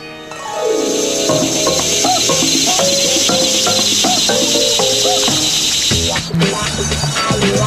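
A dense, continuous chorus of crickets chirps loudly and steadily throughout, set under layered musical tones and a sudden shift near the end.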